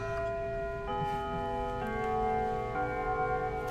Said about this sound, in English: the school bell rings before he can grab her attention